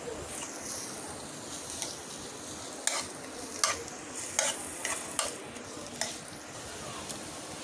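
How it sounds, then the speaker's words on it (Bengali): Onions frying in oil in a pan after dried red chillies, with a steady close sizzle and several sharp scraping strokes of stirring; no talk. "দিয়ে দিচ্ছি পেঁয়াজ"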